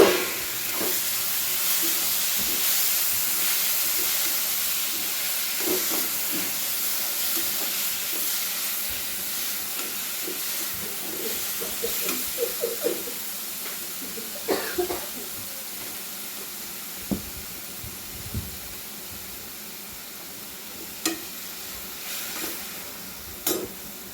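Tomatoes frying in a pan with salt for tomato chutney give a steady close sizzle and hiss, with occasional stirring clicks and scrapes and a few faint voice sounds.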